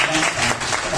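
A brief burst of audience applause for a business owner at a gathering, dense clapping heard close with talk mixed in.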